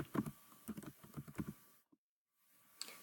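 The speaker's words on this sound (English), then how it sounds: "I'm going to go ahead and type her name in here." Quiet, close computer keyboard typing, a quick burst of light key clicks for about a second and a half, then a brief silence and one more faint tap.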